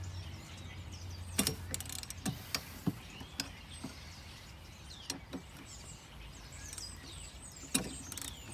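Bolts on a 2019 Honda Accord Sport 1.5T are loosened with a small ratchet during an oil catch can install, producing scattered sharp clicks and short ratchet bursts, fairly close but moderate in level, with no talking.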